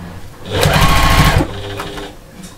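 A sewing machine stitches into a fabric seam on a storage project in one steady burst of about a second, loud and close, with a quieter mechanical tail afterward.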